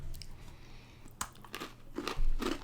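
A thin Heath toffee candy bar gets bitten and chewed up close, giving a few crisp crunches in quick succession against soft background hiss.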